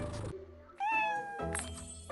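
A cat character in a video game puzzle meows in a few clear, drawn-out calls, close and fairly loud, with no one talking over it.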